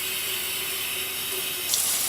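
Warm water running steadily from a tap into a sink for rinsing makeup brushes, a continuous close hiss with no pauses and no talk.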